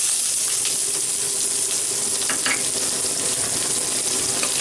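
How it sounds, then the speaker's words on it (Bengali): Potatoes fry in a hot pan with bay leaf and garam masala, giving a steady, close, loud sizzle throughout with a few brief crackling pops and no voices. "আলুগুলোকে একটু ভেজে নেব।"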